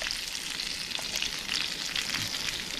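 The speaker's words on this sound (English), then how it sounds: "So we've got the butter sizzling in the pan." Fish fillet frying skin side down in butter in a pan, giving a steady close sizzle with fine crackling throughout.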